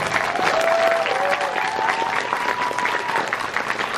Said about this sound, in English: Guys, give this entire team a round of applause.